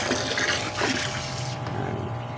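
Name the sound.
water being added to a shrimp tank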